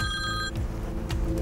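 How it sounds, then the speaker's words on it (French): A phone rings with an incoming call. A short, bright electronic ringtone sounds for about half a second, then gives way to faint background noise and a few soft clicks. "je reçois présentement un appel"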